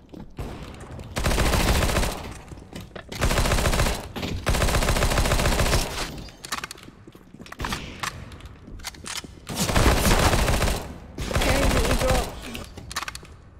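Bursts of rapid automatic gunfire from wall-penetrating shots in a first-person shooter video game, several loud sustained volleys separated by short pauses, with a voice talking quietly in the gaps.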